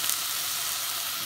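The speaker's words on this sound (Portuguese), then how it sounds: "Mas ainda tá fritando." Food sizzles and fries steadily in a hot pan in a home kitchen, a continuous close, even hiss with no talking.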